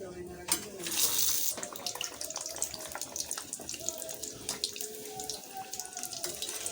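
Puris fry one at a time in hot oil in a kadai, a steady close bubbling sizzle with light clatter and an occasional faint voice underneath.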